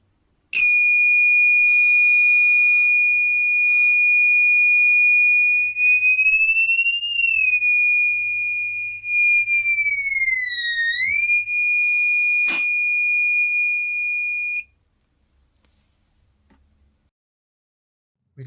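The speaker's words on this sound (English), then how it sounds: "the change in frequency generated by an active magnetic buzzer to the applied external magnetic field" An active magnetic buzzer driven by an Arduino Nano sounds a loud, steady high-pitched tone whose pitch bends up and then dips as a magnet is brought near, followed by a sharp click before it cuts to silence.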